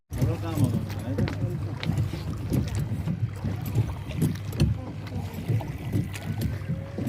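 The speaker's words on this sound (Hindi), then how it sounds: "वो आर्मी वालों की बोट है। राउंड लगा रहे हैं ये यस।" An army boat flying a flag circles on Rawal Lake, its engine a steady droning rumble with water wash and wind buffeting the microphone throughout.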